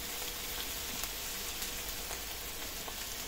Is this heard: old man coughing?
no